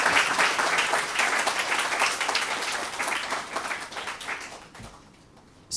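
A lecture audience applauds a presenter on India's constitutional history with a dense, sustained wash of many hands clapping. The clapping tapers off and nearly fades out near the end.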